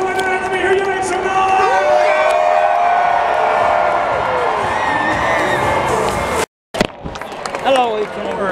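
A crowd at a Cardinals baseball game cheers and whoops in a dense roar with shouts rising above it, broken by a brief silence near the end, while an announcer's voice comes through an amplified speaker.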